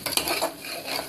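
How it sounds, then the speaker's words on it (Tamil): Spice mixture with salt and jaggery stirred in a pan for Muslim-style ennai kathirikai, a short burst of spoon scraping and clinking against the metal over a faint sizzle, close and fairly loud. "எல்லாத்தையும் போட்டு நல்லா கிளறிக்குங்க"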